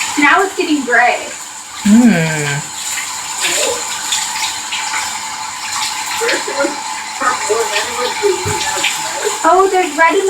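A tap pours water continuously into a bathtub while hair dye is rinsed out, the steady splashing flow sitting under intermittent talking.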